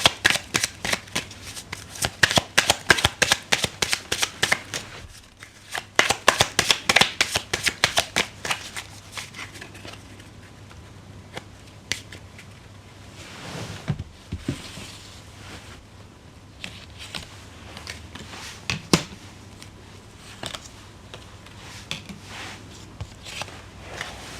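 Lenormand oracle cards shuffled by hand in repeated rapid riffling bursts, loud and close, then quieter scattered card handling and taps, with no talk.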